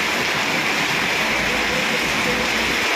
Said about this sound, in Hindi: तो वो इस बारिश को देखकर आनंद ज़रूर ले सकते हैं कि बारिश